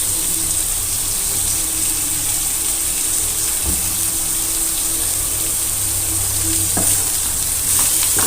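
Cabbage sambharo cooking in a hot pan and being stirred, giving a steady, close sizzle with occasional scrapes of the spoon against the pan throughout.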